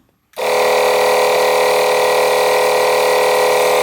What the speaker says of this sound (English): We're going to push the switch, and we're going to blow it up to 7 psi.